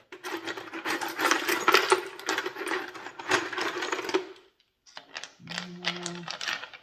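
Rocks dropped into a 12-pound rock tumbler barrel, a dense clattering, rattling cascade of stone on stone that pauses briefly and then resumes, close and moderately loud, with a short hum near the end.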